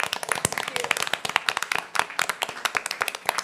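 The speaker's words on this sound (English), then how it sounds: "let's applaud the audience for doing that" Applause at a digital democracy panel discussion: a small group clapping close by, individual sharp hand claps distinct in an uneven, lively rhythm throughout, with no voices over them.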